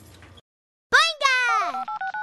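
Cell phone dialing tones in the Backyardigans Mission to Mars PC game, a short run of beeping keypad tones following a cartoonish voice, close and clear.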